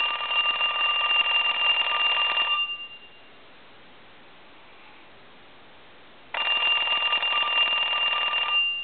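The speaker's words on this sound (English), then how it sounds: "So I'm going to go ahead and ring the phone." A Western Electric donut telephone's electromechanical bell rings loudly in two long bursts, separated by a few seconds of quiet.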